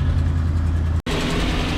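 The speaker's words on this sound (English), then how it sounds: "This is still on fast idle because it's warming up." RV motorhome engine on fast idle while warming up, a steady, close, low rumble with an exhaust leak, broken by one brief dropout midway and then resuming.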